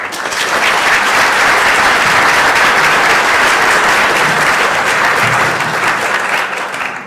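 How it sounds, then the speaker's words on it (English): Sustained applause from a conference audience, a steady wash of many hands clapping throughout, loud and close, fading slightly at the end. "I'd like to give you a good hand of applause"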